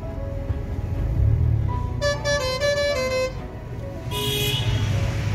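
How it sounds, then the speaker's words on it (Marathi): On the Pune–Solapur highway near the Patas toll plaza, a vehicle horn blares in a long, loud blast over steady road and engine rumble, with a second shorter, higher horn close behind. "हॉर्न भारी वाजवला आहे."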